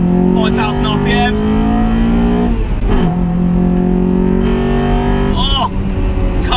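A Honda car pulls hard in second gear up to 5,000 RPM, its engine note rising steadily and loud throughout, with a brief dip around a shift and some talk over the engine.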